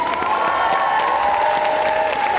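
A convention cosplay contest crowd applauds its staff, steady clapping laced with cheers and high, sustained shouting voices, dense and even for the whole stretch.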